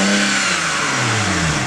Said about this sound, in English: this is how it sounds without the intakes